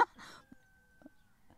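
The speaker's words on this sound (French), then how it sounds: "vous entendez le coq" A rooster crows once outdoors, a thin sustained call held for about a second at moderate distance, with a couple of short clucks and faint knocks around it and no speech.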